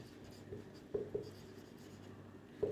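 Handwriting on a board or page during a Class 10 maths lesson, a few soft close strokes and taps at irregular moments over a quiet room.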